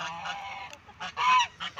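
Geese honk in a farmyard on a snowy day, a run of loud, close calls in bursts with short gaps, the strongest near the end, with no talk.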